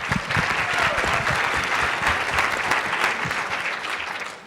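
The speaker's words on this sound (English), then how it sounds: "I'm going to ask that we hold applause until we are all finished and we are doing our closing statements" An audience at a New Mexico congressional candidate forum gives loud, continuous applause, a dense crackle of many hands clapping that holds steady and then tapers slightly at the end.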